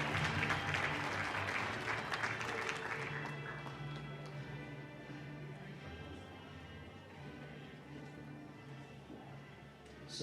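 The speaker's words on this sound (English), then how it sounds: "Let's go ahead and give them a round of applause, everybody, for the rest of those VN folks." Audience applause for graduates at a 2021 Los Angeles nursing graduation ceremony, loud clapping at the start that gradually thins and fades, with a faint voice underneath.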